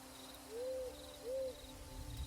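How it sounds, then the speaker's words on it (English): Owls hoot twice in a night forest, two soft, drawn-out calls about a second apart, fairly faint over a steady background of chirping insects. "You can hear the owls in the background."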